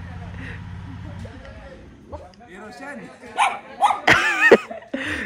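Dogs bark and yip near a village road, a few sharp barks building toward the end while people talk and call out over them.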